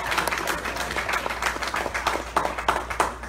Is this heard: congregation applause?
yes